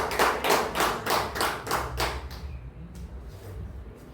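A church congregation at a worship service in Benin claps in a steady rhythm, about seven sharp beats in quick succession that then thin out and fade.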